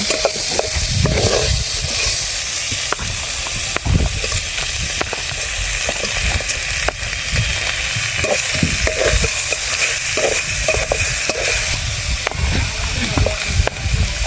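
Shrimp sautéing with aromatics in a pan, a steady close sizzle and hiss with repeated stirring scrapes and knocks throughout, a faint voice now and then underneath.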